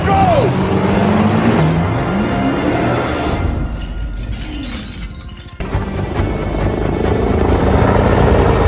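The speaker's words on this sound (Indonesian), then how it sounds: "Brixton pun berhasil menangkap Hetty dan membawanya dengan helikopter" A loud helicopter roars close by with heavy rotor thumping and engine whine, shifting in pitch as it moves, with crashing noises in the mix.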